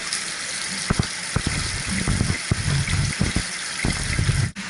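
Water from a hose trickles and splashes slowly into an Evapco cooling tower during preseason startup, a steady gurgling flow with scattered small splashes and drips, close up.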